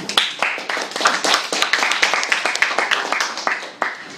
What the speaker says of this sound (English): Let us give another round of applause for our debate teams.